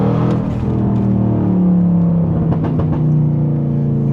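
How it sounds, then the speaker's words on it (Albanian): A Cadillac CTS-V engine drones loudly and steadily, then throttle blips and a few sharp exhaust pops crackle on the downshift near the end. "Bo këta popsat mrapa kur bot downshift."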